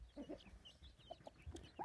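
Soft clucks from a golden Índio gamecock rooster, a few short scattered calls close by with faint background noise, no talking.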